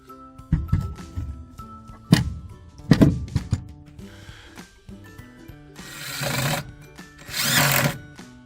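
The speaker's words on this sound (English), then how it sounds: "you'll have to hold that up while I make a few holes and screw it in" A power drill bores holes and drives screws into a wooden chicken coop door, several short whirring bursts followed by longer, louder grinding runs, close and with no talk.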